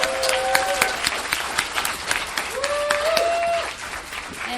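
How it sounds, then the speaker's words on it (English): Audience applause at a Narcotics Anonymous women's recovery meeting: a steady spread of clapping from a small crowd with a few voices and whoops rising through it, easing slightly near the end. "Let's give her another round of applause."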